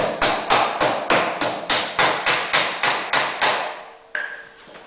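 A hammer taps a snowmobile track slide into place with about a dozen evenly spaced, sharp metallic blows, close and loud, followed by a final lighter knock.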